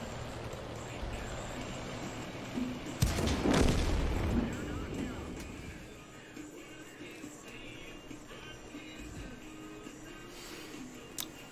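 Gunfire in a video game battle, with a burst of booming shots in the middle over a faint background of distant fire and game noise.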